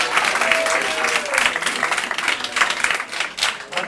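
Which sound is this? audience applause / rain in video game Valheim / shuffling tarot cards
audience applause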